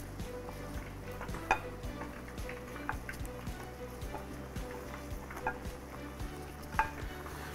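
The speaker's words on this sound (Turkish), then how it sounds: "Patlıcanları ilave ediyorum." Eggplant slices sizzle steadily in a hot frying pan for moussaka, with a utensil stirring and scraping through them and occasional metallic clinks against the pan.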